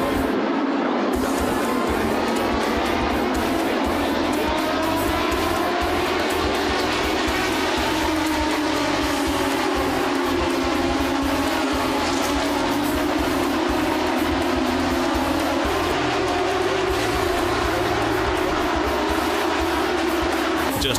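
Race cars lapping at Bristol during a 2004 Aaron's Pro Challenge race, a continuous dense engine roar with shifting pitch, steady and loud throughout.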